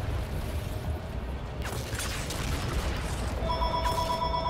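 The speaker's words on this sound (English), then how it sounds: "Do your best to ignore the calls of the phones." Telephones ring during a boss fight in the IW Zombies video game. A thin electronic ring comes in late, over a loud, dense wash of game rumble and noise.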